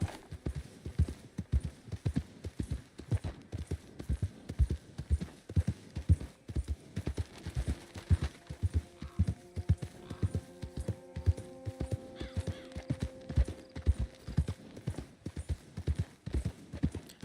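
Steady clip-clop of a single horse's hooves at a walking trot in Red Dead Redemption 2, evenly paced and close, with faint tonal game ambience rising partway through and no talk.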